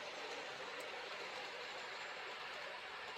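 An LGB garden-scale model tank engine with an extra tender and cars runs along its track, producing a faint, continuous rolling rumble and hiss with no distinct clicks.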